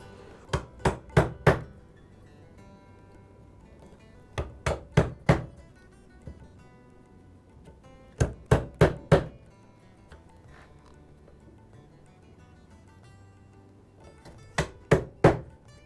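Chisel chopping a mortise in wood: four bursts of three or four sharp close mallet strikes, evenly paced, with quiet pauses between the groups, no speech.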